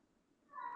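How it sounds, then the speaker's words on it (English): A house cat gives one short, faint meow indoors that rises quickly at the end, heard alone against quiet room noise. "I hear a cat."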